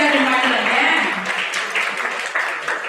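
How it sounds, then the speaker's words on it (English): Audience applause at a university law event for a registration team, a dense sustained wash of clapping with a voice audible over it, steady and fairly loud throughout. "Huge round of applause."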